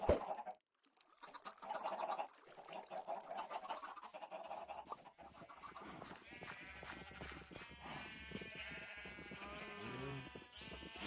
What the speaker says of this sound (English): eggs that actually hatched into chicks